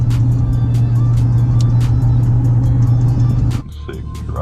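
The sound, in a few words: Chevrolet Silverado pickup truck driving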